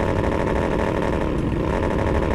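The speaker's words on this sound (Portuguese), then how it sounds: "Olha aí o corta giro da motoca, ó." Motorcycle engine bouncing off the rev limiter in a Brazilian GTA roleplay server, a loud, continuous buzzing drone with a fast stuttering pulse, close and steady with no talking.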